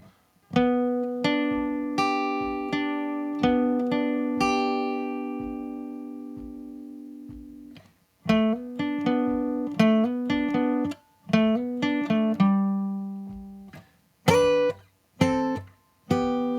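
Plucked electric guitar notes play a lead line, some held and ringing, others quick and separated by short pauses, clear with no talking.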